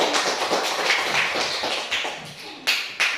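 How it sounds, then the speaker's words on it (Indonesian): Students in a classroom clap for their classmates, a flurry of close, uneven hand claps with a couple of sharper claps near the end. "Oke, tepuk tangan buat teman-teman."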